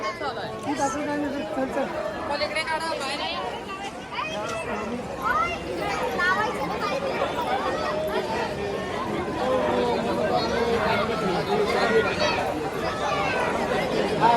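Busy crowd of pilgrims at the Pandharpur temple, a dense babble of overlapping adult and children's voices that stays steady and fairly close for the whole stretch.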